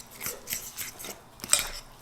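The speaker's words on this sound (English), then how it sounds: "We're going to mix this together a little bit." Butter and sweetener are worked together by hand in a bowl for keto lemon bread, a few soft scraping utensil strokes against the bowl at an uneven pace, close and faint with one brighter clink near the end.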